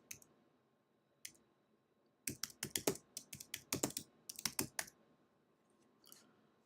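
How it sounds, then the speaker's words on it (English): Typing on a computer keyboard comes in a few isolated clicks, then a quick run of sharp, close keystrokes and one last faint tap, with no voices. "Just type in your post."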